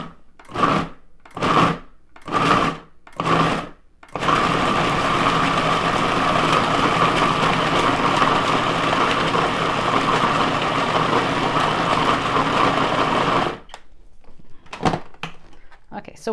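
A blender runs on high while whipping chocolate mousse, starting with several short pulses before settling into a loud, steady whir that stops abruptly near the end.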